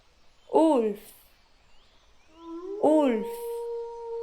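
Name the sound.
wolf howling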